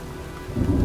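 Heavy rain pours steadily in a video-game cemetery, joined partway through by a deep, loud rumble of thunder that swells and lingers to the end.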